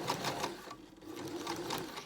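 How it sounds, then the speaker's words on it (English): Janome sewing machine stitching fabric, a close, continuous rapid whirring with a pulsing needle rhythm that briefly eases in the middle before resuming. "this sewing machine is a Janome sewing machine"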